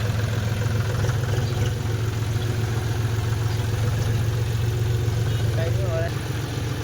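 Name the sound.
John Deere tractor engine running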